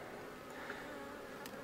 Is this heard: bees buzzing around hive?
yes